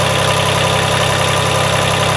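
A 1993 Toro Groundsmaster 325D diesel mower engine runs steadily at idle, a loud continuous mechanical drone with a faint knocking texture and no voices.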